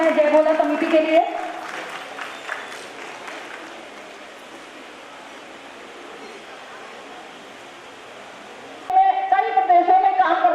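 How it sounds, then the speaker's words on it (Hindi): Loud applause at a community event in Hardoi for the Jai Bhola committee, a dense burst of clapping that swells and slowly fades, framed by an amplified voice on a PA before and after. "जोरदार तालियां हो जाए जय भोला समिति के लिए।"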